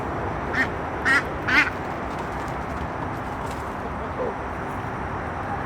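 Ducks quack a few times in quick succession near the start at a bird enclosure at night, short nasal calls over a constant background hum, then fainter calls later.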